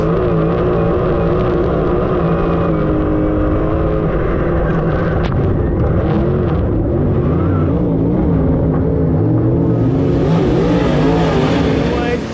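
Race cars thunder around the Sugar Creek dirt track, engines loud and close, revving and droning in overlapping rising and falling tones across the whole stretch as a commentator talks over the roar.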